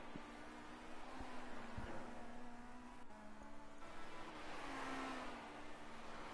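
Formula C racing cars circulating on track at Cadwell Park, with steady engine drone and whine continuing throughout, engines rising and falling as cars pass at a distance.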